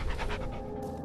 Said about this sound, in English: Yeah, good dog.